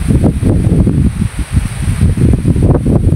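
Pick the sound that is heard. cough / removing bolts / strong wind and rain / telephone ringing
strong wind and rain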